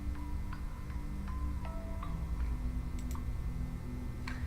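Keyboard typing in a typing video game comes through as light, scattered clicks and ticks at an uneven pace over a steady low background hum.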